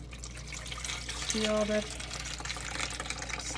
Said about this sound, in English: I'm going to strain it right here in this bowl.